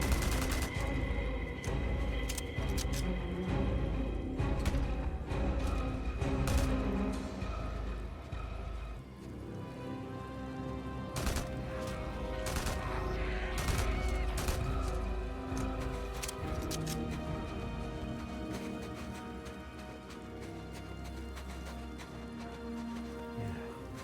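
Sustained gunfire in Days Gone Remastered, with dense bursts of rapid shots and sharp single cracks landing as headshots. The shooting runs loud and continuous over a busy background of game noise.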